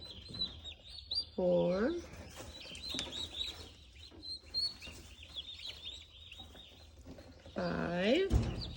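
Young turkey poults in a brooder peep and chirp in bursts, with a couple of louder calls standing out, while a person counts aloud nearby.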